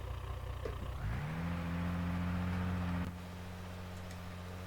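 A Citroen Jumper van in the BeamNG.drive game, its engine droning steadily and rising in pitch as it pulls away, then settling to a lower, quieter hum, with no talk.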